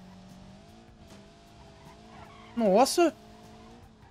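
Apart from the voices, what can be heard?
car skidding in BeamNG.drive video game (Ford F150 sedan)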